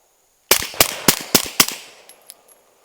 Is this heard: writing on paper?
no